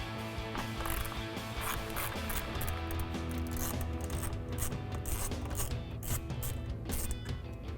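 A 7mm socket on a ratchet loosens the air intake box clamp on a 2015-2023 Mustang EcoBoost, giving a steady run of fast, close ratcheting clicks that continues throughout.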